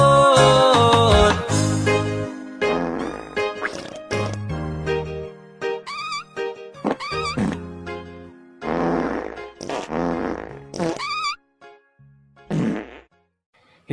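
Reggae song in the Bisaya language, with fart sounds set against the music: loud, sharp, repeated sputtering blasts in a choppy rhythm over synths and bass, thinning out toward the end.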